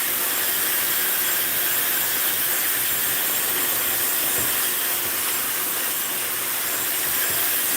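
A hair dryer fitted with a concentrator nozzle blows a loud, steady, close airy hiss without pause for the whole stretch.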